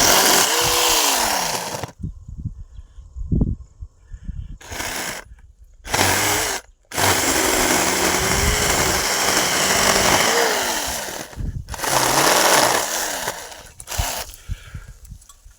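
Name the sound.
battery-powered tree branch cutting tool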